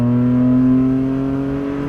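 Turbocharged engine of a Toyota GR Corolla, heard close and loud from inside the car, holds a steady, strong tonal hum as it pulls under acceleration, with its pitch sinking slightly toward the end and no talking.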